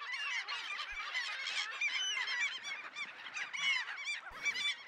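Dense chorus of seabirds, terns at breeding islands, giving harsh, overlapping calls continuously, a busy colony sound at moderate distance without talk.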